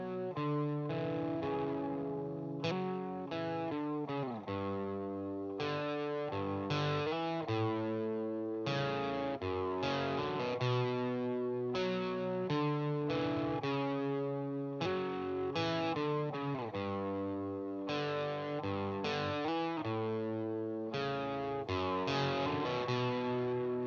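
A guitar plays a repetitive riff through heavy distortion, with chords changing in a steady rhythm. It is loud and continuous, with no talking over it.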